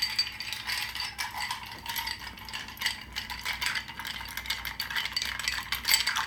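A cocktail made with St. Germain is stirred in a mixing glass, giving a quiet, continuous rattling clink of spoon and ice that repeats steadily throughout with no talking.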